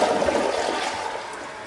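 Toilet flushing with colored water in the bowl, a steady loud rush of swirling water throughout without a break.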